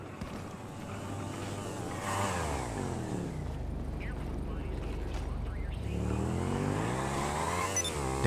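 Motorcycle engine in a GTA roleplay video game, revving up and down with rising and falling pitch, steady and fairly loud throughout, with talk over it.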